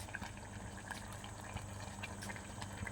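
Crab curry with eggs boiling on a high flame in a home kitchen, a steady close bubbling and simmering with soft liquid pops running evenly throughout.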